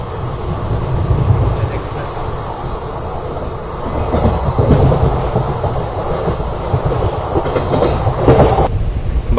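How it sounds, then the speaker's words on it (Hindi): Passenger train running on the track while overtaking the Magadh Express, with a steady loud rumble and rolling wheel noise throughout. "ये देखो भैया मगध एक्सप्रेस को ओवरटेक कर रहे हैं हम"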